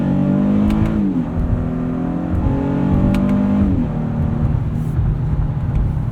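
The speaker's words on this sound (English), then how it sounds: "See how the paddles shift on this 9-speed. Downshifts are nice. There's a little bit of an acceleration as it rev matches." A 2019 Honda Passport Elite AWD's V6 engine blips and rises in pitch with each paddle downshift of its 9-speed automatic, heard twice as steady, close harmonic engine hum inside the cabin.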